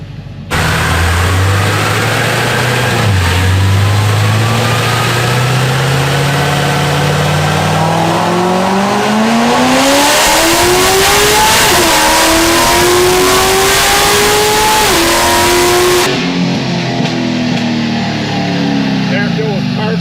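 A supercharged LS3 Corvette roars through a second-gear dyno pull, its loud engine note rising steadily with brief dips at shifts or wheel slip, then dropping back to a rumbling idle at the end.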